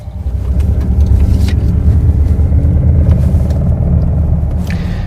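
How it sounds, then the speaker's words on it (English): A Mercedes EQE electric car playing its Roaring Pulse synthetic driving sound, a steady, loud, deep growling rumble heard up close from inside the cabin for several seconds, with no talking. "let me show you what happens with roaring pulse"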